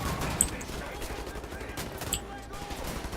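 Gunfire in the shooter game Wolfenstein: The New Order, a busy wash of rapid shots and combat noise running throughout at moderate loudness, with faint voices mixed underneath.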